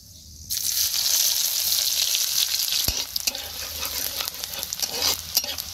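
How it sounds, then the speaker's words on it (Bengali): Dal, black peppercorns, a clove and chopped onion hitting hot oil in a village kitchen pan: a sudden loud sizzle that hisses steadily, then settles into bubbling crackle with stirring scrapes and a sharp knock, close and without talk. "প্রথমে আমি গরম তেলের উপরে এখানে ডাল, গোলমরিচ এবং একটা লবঙ্গ দিয়ে দিচ্ছি। একই সাথে আমি দিয়ে নিচ্ছি পেঁয়াজ কুচি।"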